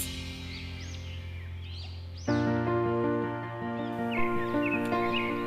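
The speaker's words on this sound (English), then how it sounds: "Dense forest on other sides with birds chirping makes it a magnificent experience." Crows caw repeatedly in the distance over a steady droning tone in dense forest at Bison Valley, Munnar, Kerala, their harsh calls rising and falling.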